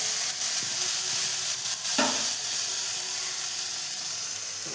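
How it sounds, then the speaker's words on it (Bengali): Chopped onion, green chilli and crushed garlic fry in a pan with a loud, continuous close-up sizzle. Occasional utensil scrapes and taps sound as the mixture is stirred. "পেঁয়াজ কুচি ভালোভাবে ভাজা হয়ে গেলে কাঁচা লঙ্কা এবং থেঁতো করা রসুন দিয়ে দিলাম"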